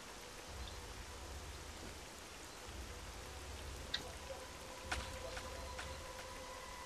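Soft, steady rainfall in S.T.A.L.K.E.R.: Call of Pripyat patters on a surface at low volume, with a few sharper drip-like ticks standing out near the middle.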